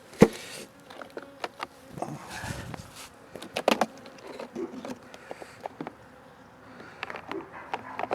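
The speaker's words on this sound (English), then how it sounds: "Oh, got a lot of bees." Honeybees around an opened hive with sugar feed, a faint steady hum under scattered knocks and taps from handling wooden hive parts.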